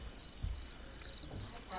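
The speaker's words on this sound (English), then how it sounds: "You hear birds whistling, crickets." Crickets chirp faintly in a high, steady trill outdoors, with soft background noise and low rumbles underneath.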